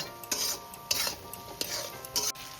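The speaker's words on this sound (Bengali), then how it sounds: "মশলা আমি কিছুটা কষিয়ে নিয়েছি" Spice masala for a vegetarian chickpea dish being stir-fried in a pan, with a soft sizzle beneath four sharp, evenly spaced scrapes and clanks of a metal spatula against the pan, close up and without talk.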